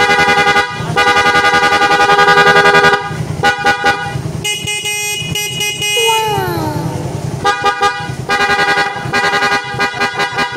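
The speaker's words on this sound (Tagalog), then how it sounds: "Balikan natin yung dating tunog ng busina nung hindi pa natin wina-wiring." A Suzuki Raider 150 motorcycle horn honks repeatedly, close and loud: sustained blasts broken by short toots, then a shrill warbling tone that dips and fades before more honks.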